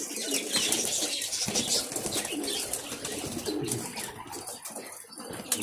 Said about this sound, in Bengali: খুব সুন্দর কালো কবুতরটা